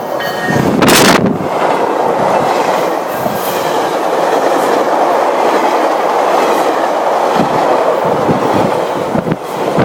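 A train rolls past on the tracks at Old Cummer Station, a loud, steady rumble with rail clatter and brief squeals running the whole time, up close and with no voices over it.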